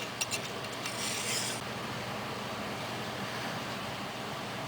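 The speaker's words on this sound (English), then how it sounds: "And then I would do that back and forth until it was sharpened." A knife blade strokes back and forth on a Lansky sharpening stone, a soft, close, steady rasp with a few faint scrapes at the start and no talk.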